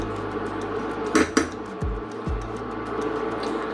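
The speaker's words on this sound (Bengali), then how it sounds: "এটাকে আবার নেড়ে নেব খুব সুন্দর করে" Potato bhaji being stirred in a pan with tomato, a few clanking utensil knocks against the metal pan, including two sharp hits close together, over a low steady kitchen background.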